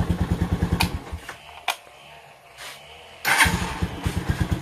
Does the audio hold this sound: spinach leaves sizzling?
no